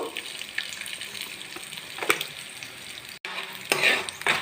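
Green chilies and lentils sizzle in hot oil in a village kitchen, a steady close frying hiss with brief stirring scrapes and a short break midway.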